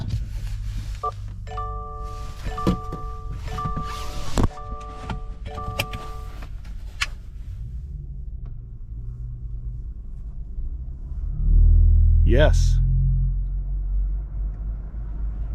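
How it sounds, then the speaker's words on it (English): A loud, low growl rises from beneath a Subaru Solterra electric car in winter, swelling suddenly after a stretch of quiet hum and electronic beeps, then easing into a steady drone; a single brief word is spoken. "A very loud growl in the lower part of the car."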